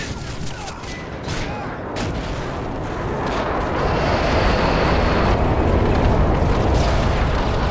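Airstrike bombs detonating in Call of Duty: Modern Warfare 3 on PS3: a continuous, heavy rumbling roar of blasts that swells louder midway and stays loud, with no speech.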